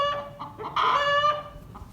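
Chickens cluck nearby in a quick, uneven series of calls, fairly soft, with no voices.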